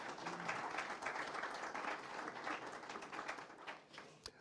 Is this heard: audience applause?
yes